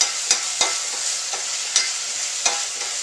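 Balsamic vinegar hits chicken breast and mixed vegetables in a hot pan, hissing in a loud, steady sizzle broken by a few stirring scrapes and crackles, with no voices.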